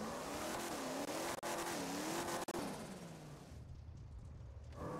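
A car in a video game drives with a steady loud engine drone, tire squeal and skidding, broken by a couple of sharp knocks as it strikes things, before the engine settles into a lower rumble.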